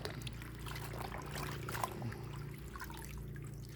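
Mustard green leaves being rinsed in water, a steady low splashing and trickling that runs on continuously and fairly quietly, with no voices.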